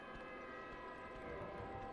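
A low, droning siren wails in the Dark Souls video game, a faint sustained tonal hum with layered harmonics holding steady for the whole stretch with no talk.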